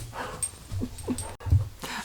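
A pet dog whimpers at home in short, soft whines and snuffly breaths, a few brief bursts close by with no talking over them.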